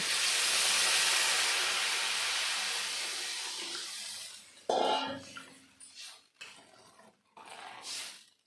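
Water is poured into a hot pan of taro curry with fish, making a loud, broad sizzling rush that slowly fades over about four seconds, followed by shorter bursts of bubbling and clatter.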